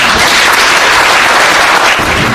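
A packed hall applauds at the opening of a Justice Party joint meeting of national committee members and regional chairs, the clapping loud, dense and sustained from start to finish with no talk.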